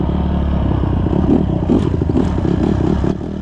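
Honda dirt bike pulling away off-road in Northern Ontario, a mid-pitched engine revving and accelerating with some clatter, fairly close and loud over about three seconds.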